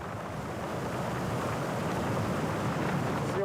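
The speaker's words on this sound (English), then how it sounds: "the wind suddenly picks up" Strong wind buffeting at a cliff edge, a continuous loud roar of gusts rushing over the microphone without pause.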